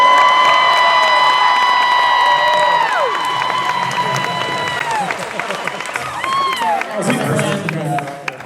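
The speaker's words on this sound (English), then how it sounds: "can we please have a round of applause for Chris's zipper?" Concert audience cheering and clapping for a show in Salem, Oregon, starting loud with sustained crowd noise that thins and swells again, whoops and a few voices rising over the steady applause.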